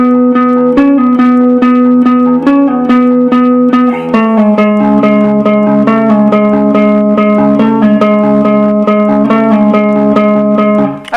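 An electric guitar plays the intro riff of a song, a loud, close, steady pattern of repeated picked notes and chord changes with light effects, heard alone without any voice.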